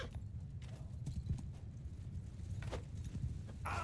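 Horses' hooves clip-clop steadily through a Mount and Blade 2 Bannerlord battle against skirmisher cavalry and horse archers, a busy drumming of galloping hooves with a brief whinny and other battlefield noise mixed in.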